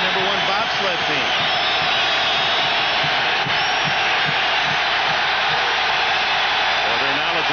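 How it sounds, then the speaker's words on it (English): Roaring stadium crowd at the 1990 AFC Championship football game, a dense, loud, continuous wash of noise with rising intensity, faint shouts poking through throughout. "they raised the intensity of the crowd noise"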